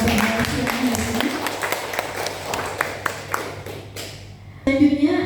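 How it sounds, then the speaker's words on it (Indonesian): An audience at a research grant event claps for four speakers, with steady clapping that thins out toward the end before a voice comes in. "kita beri tepuk tangan yang mulia kepada keempat pemateri kita pada siang hari ini"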